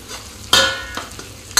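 Onion and capsicum frying on high flame for chilli paneer, loud ladle scrapes striking the pan about every half second over a constant close sizzle.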